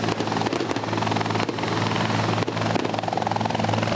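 A police helicopter flies overhead during a training exercise on a reservoir, its rotor beating in a steady, loud, continuous drone throughout.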